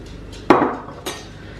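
A cutlery knife mixes scone dough with lemon juice in a bowl, giving two sharp clinks of metal on the bowl about half a second apart over a quiet room.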